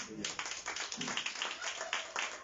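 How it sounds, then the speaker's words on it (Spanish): A church congregation applauding during a sermon: a dense burst of clapping begins almost at once and carries on steadily, with some voices mixed in. "Dale un aplauso al Señor."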